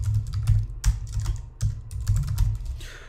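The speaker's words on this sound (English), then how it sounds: "So I'm just going to type in T-Shark" Keys on a computer keyboard are tapped in quick irregular bursts, close and clear, with soft clicks and thumps running throughout and no talking.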